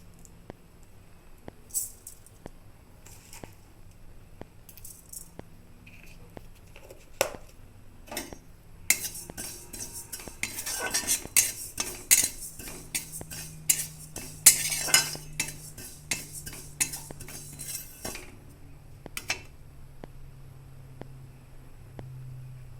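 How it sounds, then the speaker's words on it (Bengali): Cumin dry-roasts in an empty wok, with a spatula scraping and clinking against the metal in scattered strokes that grow busier and denser midway, close by and without speech. "কড়াইটা বসিয়ে দিয়েছি আর শুকনো কড়াইতে আমি একটু মশলাটাকে ভেজে নিব।"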